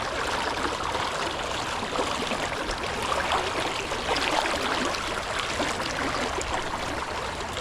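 Strong, fast-flowing water of the Apple River rushes steadily nearby, a dense continuous roar and wash with no pauses and no one speaking.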